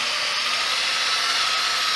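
A drill spinning a polishing pad with thin compound across a car headlight, driven fast under light pressure; a steady, even high whir holds for the whole stretch with no talk over it.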